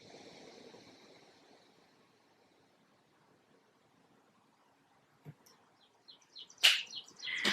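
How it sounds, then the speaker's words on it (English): Birds chirp outside an open window in Connecticut, faint at first over a soft room hiss, then clearer, brighter tweets come in short bursts toward the end. "If you hear birdies out, I opened up my window."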